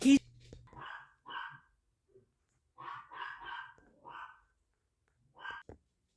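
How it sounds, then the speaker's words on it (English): Dogs bark in several short bursts, grouped in twos and threes with gaps of quiet between them, fairly close and clear against a silent indoor background. "Sorry about that, but dogs are barking again."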